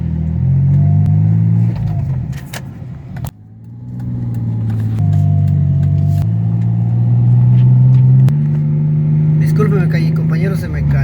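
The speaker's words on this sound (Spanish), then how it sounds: "está trabajando bien el carro, ya no hay ningún problema" A 2005 Mazda 6 with a P0300 misfire code idles and revs, with a steady close engine drone that rises and falls in pitch, while someone speaks Spanish over it.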